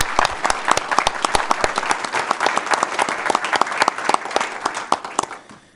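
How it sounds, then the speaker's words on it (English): A room full of people at a city council meeting giving a round of applause, distinct sharp claps in a fairly quick rhythm rising into steady clapping, close and loud, then tapering off at the end. "So I want to give you a round of applause for what you have helped me learn throughout this process."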